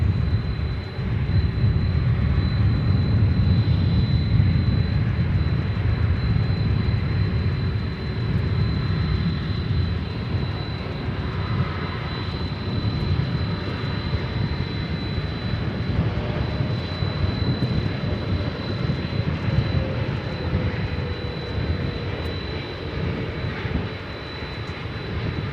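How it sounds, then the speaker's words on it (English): An airliner arriving from Dubai lands at Dallas/Fort Worth Airport, its engines a steady, broad low roar that holds throughout at moderate distance, with a faint high whine above and no voices. "flight coming in from Dubai. Is that it? I'm going to say it looks like it's landing on 17 left."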